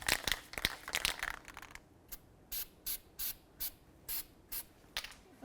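Copper aerosol spray hissing onto the splines of a front CV axle on a 2008-2012 Jeep Liberty, coming as about eight short, even bursts after some rustling handling noise.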